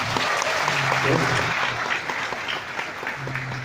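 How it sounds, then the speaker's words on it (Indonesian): Audience applause at an evening Ramadan lecture at a university, broad steady clapping across the whole stretch with a brief spoken word and low humming voice tones underneath. "boleh tepuk tangan buat Gajah Mada"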